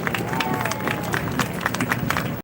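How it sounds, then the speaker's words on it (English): Audience applause at a city event, a steady patter of many hands clapping at moderate distance, sustained and even for a couple of seconds before stopping abruptly. "Please give them all a round of applause."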